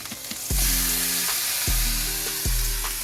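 A burger patty sizzles and fries in a hot pan, the steady crackle swelling in a few sharp bursts as it is pressed or moved, close and without voices.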